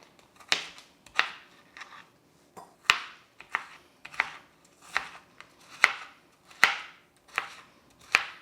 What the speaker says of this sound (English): take this broccoli and I'm just gonna cut it up into smaller pieces